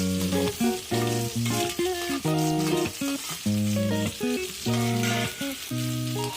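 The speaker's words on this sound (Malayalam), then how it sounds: "എണ്ണ തിളച്ച് വരുമ്പോൾ മാങ്ങ ചേർത്ത് കൊടുക്കാം." Mango pieces frying in hot oil in a pan for pickle. A steady crackling sizzle runs beneath louder melodic background music.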